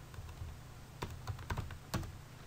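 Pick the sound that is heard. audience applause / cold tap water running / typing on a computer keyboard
typing on a computer keyboard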